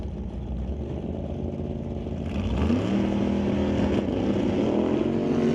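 A Chevy II drag race car running in a Super Pro category bracket race, its engine giving a steady, loud roar heard from a distance. The engine note swells partway through and then holds at a sustained pitch.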